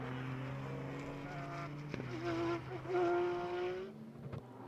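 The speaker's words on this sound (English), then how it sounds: "You can hear him just dancing on the throttle" Race car engine during IGTC qualifying, the driver modulating the throttle, a tonal engine note rising and falling in quick surges then climbing to a sustained high rev before cutting off.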